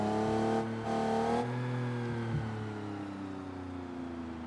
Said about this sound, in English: you can hear the engine still going up, still going up.